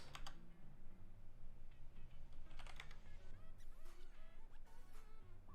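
Fingers type on a computer keyboard during a Minecraft gaming session, with quiet, steady clicking and occasional bursts of faster keystrokes throughout.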